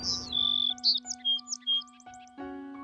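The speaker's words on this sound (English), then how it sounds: "There's a lot of birds chirping right now." Birds chirping and tweeting in short bright calls, several notes in quick succession over a faint steady hum.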